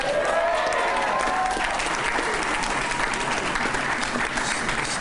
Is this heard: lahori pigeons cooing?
no